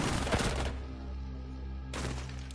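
Gunfire from a tactical shooter video game match, with two dense bursts of shots near the start and end separated by a quieter stretch of low humming.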